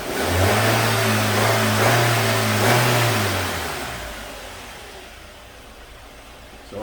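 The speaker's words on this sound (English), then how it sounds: "So I snapped the throttle" The engine of a 2006 Nissan X-Trail, with an evaporative emissions and catalyst fault, revs up sharply as the throttle is snapped, holds a strong, steady drone for about three seconds, then falls back toward a quieter idle; close and without talk.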